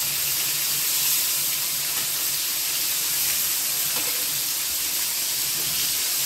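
Bombay duck (bombil) fish deep frying in hot oil, a steady loud broadband sizzle and hiss with no pauses and no talk.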